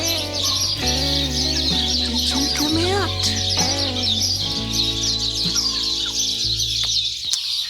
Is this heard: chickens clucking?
yes